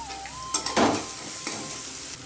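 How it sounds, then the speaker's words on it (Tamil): Onions sizzle quietly in a pan with curry leaves, fennel seeds and cumin, with a few brief stirring scrapes and a faint tone in the background. "வெங்காயம் வதங்கட்டும்"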